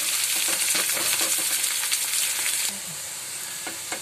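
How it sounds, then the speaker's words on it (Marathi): Onion and garlic fry in hot oil for a Malvani crab curry, a dense, steady sizzle close up that drops to a softer crackle partway through, with no talking. "आपल्याला ब्राऊन कलर येईपर्यंत कांदा तेलात फ्राय करायचा आहे"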